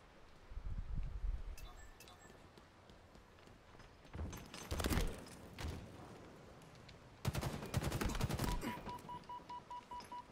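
Bursts of Halo Infinite multiplayer gunfire, some in rapid automatic strings, with a long sustained volley near the end and quieter gaps between.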